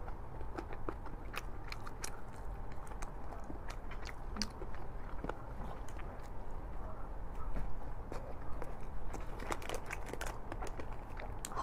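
Soft, close chewing and biting on ice cream mochi, a steady stream of small wet clicks and crunchy ticks over a quiet background, with no talking.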